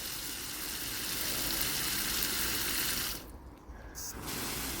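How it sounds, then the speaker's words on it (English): A strong, steady stream of water gushes into a pet's water bowl in an allotment garden, pausing briefly near the end before rushing on again. "Fill a water bowl up there."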